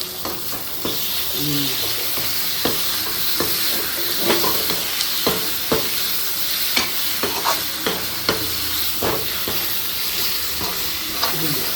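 Washed prawns with turmeric and salt sauté in a pan for prawn thokku, a close, constant sizzle broken by frequent sharp clinks and scrapes of a stirring spoon against the pan.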